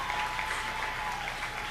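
A crowd at a college convocation claps steadily at a moderate distance, a brief patter of applause with no voices rising above it.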